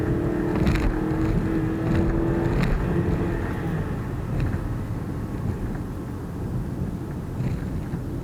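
A 2014 Kia Sportage LX floored at full throttle, its engine giving a steady, loud droning roar with a faint tonal whine near the start and no speech over it.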